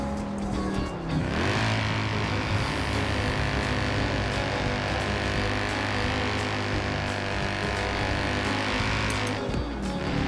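The engine of a car with a 6-litre engine in Forza Horizon 4 roars at sustained high revs, a loud, steady, close drone with brief pitch dips at the start and end, heard without talk.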